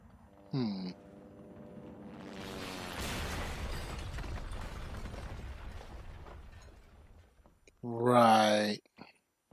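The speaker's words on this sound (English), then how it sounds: "Call me crazy, but I think a helicopter just crashed." A helicopter crash in the video game Resident Evil 2: a low rumbling roar builds and sustains for several seconds, framed by short bursts of speech before and after.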